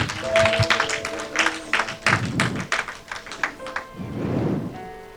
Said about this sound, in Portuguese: Você pode aplaudir o nome do Senhor nessa noite?